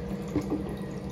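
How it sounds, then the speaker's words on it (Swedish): Bathwater sloshing and lapping continuously, close and fairly quiet, with a soft gurgle partway through. "Skönt att bada."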